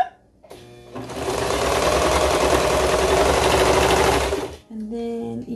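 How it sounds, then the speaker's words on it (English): Serger overlock sewing machine stitching fabric for a baby romper: a close, loud, steady high-speed whir and rattle runs for about four seconds, then stops, with a quieter mechanical hum before and after. "so I'm going to go ahead and keep serging."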